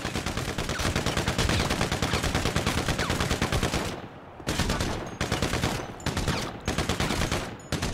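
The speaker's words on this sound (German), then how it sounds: "Ach, sie schießen wieder, ne? Sie schießen wieder, okay." Automatic gunfire in GTA roleplay comes as long, relentless streams of rapid shots, loud and close, with brief breaks between bursts.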